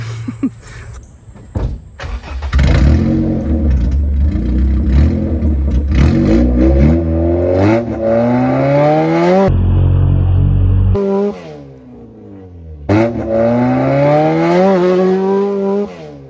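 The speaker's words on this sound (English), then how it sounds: "I'm about to take a launch, do a launch right here on the little road" A budget all-wheel-drive Honda Civic engine revs hard and accelerates in a launch on a dirt road, rising through gears with loud roaring, a brief pause, then another surge of acceleration.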